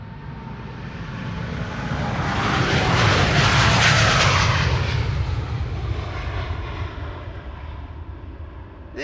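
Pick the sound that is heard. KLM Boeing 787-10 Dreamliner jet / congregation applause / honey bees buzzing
KLM Boeing 787-10 Dreamliner jet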